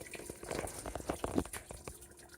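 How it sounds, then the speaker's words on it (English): Old, rusty coolant water gushes out of the engine block of a 1993 Chevy truck while the thermostat is out. The flushing sounds fairly quiet, with irregular splashing and gurgling and no talking. "Right now we're just flushing out all the old nasty, crusty, rusty water out of the block while we have the thermostat out."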